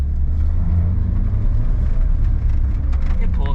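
A Mitsubishi Pajero Junior, a small-engined kei-style 4x4, gives off a loud, steady low engine rumble as it pulls under acceleration from inside the cabin, with faint voices underneath.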